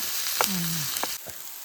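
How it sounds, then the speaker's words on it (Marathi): Onion roasts in a pan over a wood-fired stove at a tree-house campsite, a steady, close sizzle with a couple of soft knocks and a faint whistling tone, with no voices. "कांदा थोडा आहे ना भाजून घेऊ"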